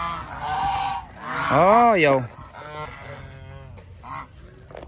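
Geese honking loudly at close range while feeding on termites among chickens, a few bursts of sharp nasal honks in quick succession, with a short spoken exclamation at the start.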